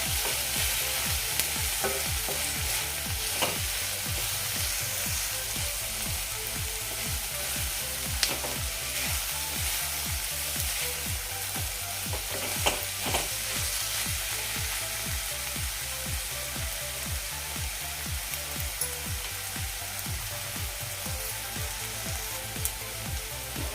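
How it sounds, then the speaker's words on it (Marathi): Dried bombil fish with Agri-style masala sautéing in a pan over low flame, a steady close sizzle broken by frequent scraping stirs of a spoon against the pan, with no talking. "एक दोन मिनटं हे असंच परतूयात आपण"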